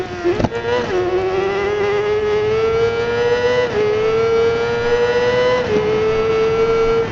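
A 2004 Kawasaki ZX-6R sport motorcycle engine revs up close and loud, its pitch climbing steadily in a long pull with brief dips between gear changes.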